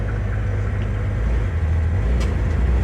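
A 1965 Chevrolet Corvair drives along after 24 years off the road, its engine a steady low rumble from inside the car, continuous and fairly loud throughout with no talking.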